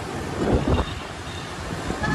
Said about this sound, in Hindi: ठंडी और यख हवा चलने शुरू हो गई है